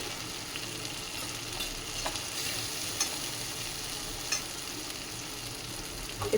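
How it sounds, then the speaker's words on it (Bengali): Spice masala with turmeric, cumin, coriander and Kashmiri chilli powder sautéing in a pan with a little water for jackfruit biryani makes a steady close sizzle and fry, with faint scraping from stirring and no voices. "একটু জল দিয়ে মশলাটাকে ভালো করে কষে নেব"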